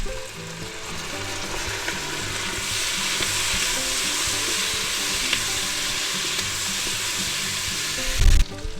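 Worcestershire sauce hits a hot pot of seasoned meat for pot roast, giving a steady close sizzle and frying hiss while a utensil stirs and scrapes; a brief clunk near the end.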